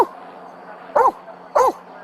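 A police K9 dog gives two sharp, loud barks about half a second apart, close by over a steady low background.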